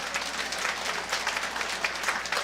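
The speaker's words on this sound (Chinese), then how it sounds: "我们拍手来恭喜" A church congregation claps at a Mother's Day Sunday service to congratulate a child receiving a Sunday school award, a dense, even patter of many hands that lasts the whole time, with no speech over it.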